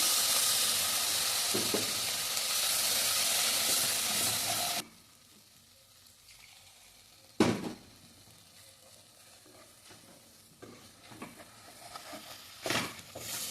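Loud, dense sizzling of masala spice powder frying in a pan for several seconds, then quieter cooking with occasional scraping stirs.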